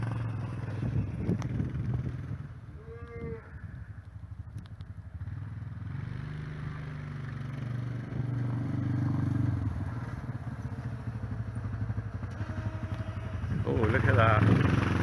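Small farm vehicle used for snow plowing runs with a low, steady engine drone and some clatter and scraping. Its level swells toward the end, and a person talks briefly over it.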